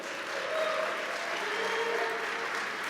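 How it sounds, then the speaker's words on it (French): Steady, moderately distant applause from a gala audience at a parents' recognition ceremony, honouring a school service centre; even, continuous clapping with a few faint voices and a whistle-like tone underneath. "on peut les applaudir."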